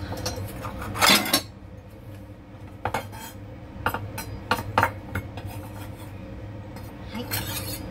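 A knife strikes a cutting board while finely chopping meat in a home kitchen, giving clustered sharp clacks and scraping taps against a steady low background hum, with no talking.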